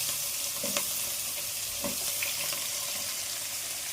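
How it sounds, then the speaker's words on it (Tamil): Ground onion paste frying in a pan with a steady, close hiss throughout, broken by a few light scrapes of a ladle, with no talking. "வெங்காயத்தை போட்டுட்டு கரண்டி எடுத்து கிண்டி போட்டு லைட்டாக வதங்கினா போதும்"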